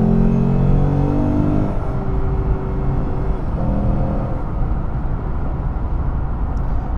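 Loud, steady engine roar from a 2008 Lexus IS F with its 5-liter V8 of 416 horsepower, its harmonic tones sliding as it pulls hard through the revs for several seconds, with no talking.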